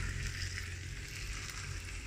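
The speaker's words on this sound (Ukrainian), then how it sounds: "я смажу курча, замаринувала у спеціях" Soft, continuous sizzle of spice-marinated chicken frying in a pan, steady and close, with no talking.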